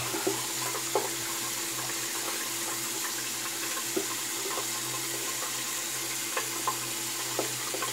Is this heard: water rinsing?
yes